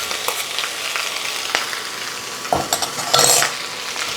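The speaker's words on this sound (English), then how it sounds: "And now I'm putting in the shrimp." Shrimp sizzling in oil in a pan as they are stir-fried, a close steady frying hiss with intermittent clattering and scraping bursts from stirring, no voices.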